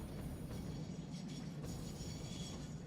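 A freight train in the factory-building game Satisfactory rolls in, a low, steady rumble of wagons with faint wheel clatter, fairly quiet and continuous with no talk.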